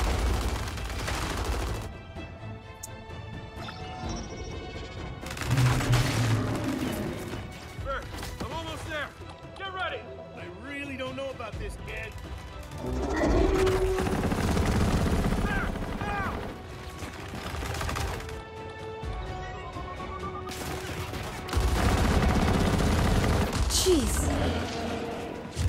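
Bursts of gunfire and heavy impacts from the video game Gears 5, firing in clusters between quieter stretches, with game voices talking over parts of the fight.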